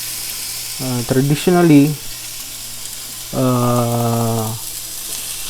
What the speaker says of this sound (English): We have to saute first the onion.